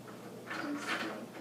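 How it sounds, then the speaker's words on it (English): A cabinet door knob is twisted into place during a cabinet and shelf build, giving a brief, quiet scraping creak that lasts under a second, with no talking. "I twist the door now."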